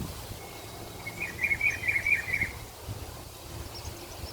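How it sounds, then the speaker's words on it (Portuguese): A sabiá thrush sings a short warbling phrase outdoors, heard at middle distance over steady wind rumble, the song lasting a little over a second before fading back into the breeze. "Agora nós temos vento e sabiá"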